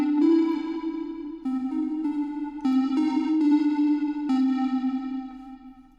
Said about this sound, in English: With the OD drive, that's going to be basically a classic guitar overdrive pedal type of